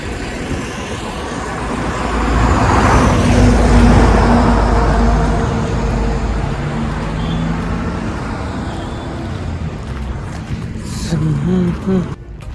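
Steady road traffic rumbles through an industrial area where container trucks stand queued along the road, a broad continuous roar that swells in the middle and stays loud throughout, with engines idling and passing nearby.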